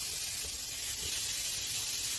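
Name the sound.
food sizzling in a grill pan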